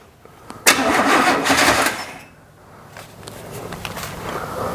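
An old 1977 car engine cranks with a sharp onset and churning starter noise for over a second, then catches and settles into a rough, uneven idle, close and fairly loud throughout.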